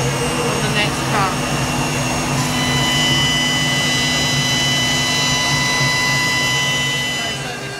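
A CNC machine cuts a horizontal groove in a steady, loud, droning whine with strong tonal hum, continuous and close, easing slightly at the end.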